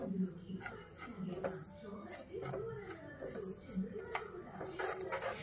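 Semolina (rava) roasting in a pan while being stirred, with soft scraping and light clinks of a spoon against metal, quiet and intermittent under someone speaking.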